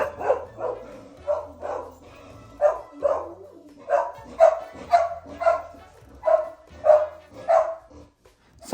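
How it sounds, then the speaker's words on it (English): A dog barks excitedly indoors at home, giving a fast run of sharp, repeated yaps and barks that come close and fairly loud, with a few higher whiny yips mixed in. "my dog gets all crazy"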